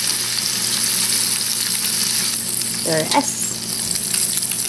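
Meatballs sizzle and spit in a pan, frying in the oil rendered from the meat with no added oil, a steady dense hiss throughout with a brief utensil scrape and a short spoken word.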